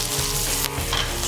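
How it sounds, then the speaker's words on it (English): Chicken pieces sizzling skin side down in a hot pan with garlic, thyme and a knob of butter, a close, steady loud crackle and hiss with no voices. "Skin side down into the pan. Garlic. Thyme. Knob of butter in."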